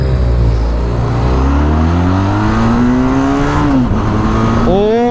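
A Benelli TRK 502 motorcycle engine revving on a ride, loud and close, with rising and falling pitch sweeps as it accelerates through gears and a sharp climb near the end; a voice speaks over the engine.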